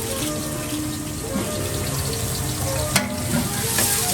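Onions frying in oil for birista, a loud, dense and continuous sizzle with occasional stirring scrapes and one sharp clink near the end.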